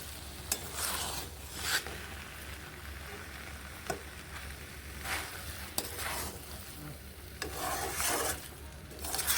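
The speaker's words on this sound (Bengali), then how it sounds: "এবার চিনি ও ঘিগুলোকে একসঙ্গে মিশিয়ে একসঙ্গে মিশিয়ে এভাবে নেড়ে নিচ্ছি" Sugar and ghee stirred together in a pan for a cauliflower dish, a steady scraping, rubbing swirl with soft sizzle, swelling into louder strokes every second or two, close up with no talking.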